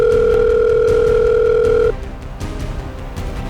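A loud, steady telephone dial tone sounds for about two seconds while a call is placed, then cuts off, leaving quiet room noise.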